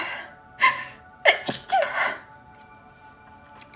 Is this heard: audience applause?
no